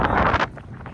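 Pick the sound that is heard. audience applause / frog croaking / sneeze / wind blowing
wind blowing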